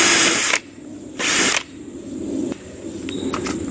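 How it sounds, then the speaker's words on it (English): A power drill whirs in two short, loud bursts, each about half a second long, drilling through a cup holder for a push mower, followed by faint clicks and handling noises. "now we're going to drill all the way through."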